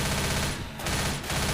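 Rapid automatic gunfire from a weapon in the zombie shooter game Left 4 Dead, loud and dense, with a brief gap before the burst resumes.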